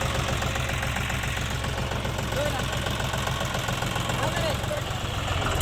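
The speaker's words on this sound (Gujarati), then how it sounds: "અહીં ટ્રેક્ટર જે ચાલુ કરીને મૂકી દેવામાં આવેલ છે" A tractor engine idles steadily in a rural desert area during a calm morning, its even mid-pitched chugging continuous and close, with a faint knocking rhythm throughout.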